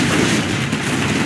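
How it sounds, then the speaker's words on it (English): An artillery bullet barrage in Command & Conquer Generals Zero Hour: a dense, continuous roar of heavy gunfire, loud and unbroken, with no distinct separate shots. "Need a bullet barrage."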